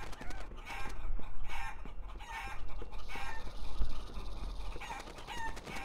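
A cartoonish chicken clucks and crows repeatedly in the video game Guacamelee! Super Championship Edition, squawks coming in quick bursts over game sound effects, with no talking.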